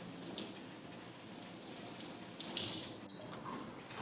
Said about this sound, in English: Always make sure you wash the mushrooms because I don't have to explain it.